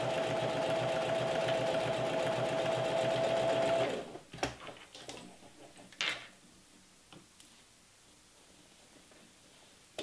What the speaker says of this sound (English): I'm not back stitching just because we're stitching so many other things onto this.